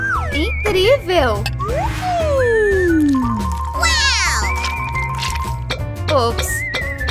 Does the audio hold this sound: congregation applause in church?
no